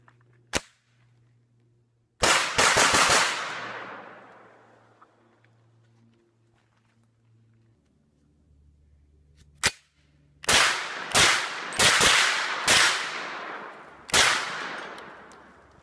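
A Beretta CX4 Storm carbine fires outdoors, loud close cracks: a single shot, then a quick cluster, a pause, another lone shot and a rapid string of several more, each ringing out with a decaying echo.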